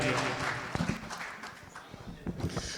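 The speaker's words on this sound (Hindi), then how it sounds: "एक बार जोरदार तालियों के साथ भाई विनोद पाल जी को बुलाओ और फिर वो ताली अपने आप बजवाएंगे" An audience at a Hindi kavi sammelan poetry gathering at a festival in Hapur claps, a dense patter of hands that starts strongly and tapers off over a few seconds.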